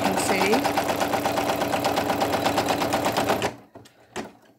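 Brother single-needle sewing machine satin stitching a waistband on minky fabric for a hippo appliqué, running in a steady fast whirring rhythm for over three seconds, then stopping with a couple of quiet clicks.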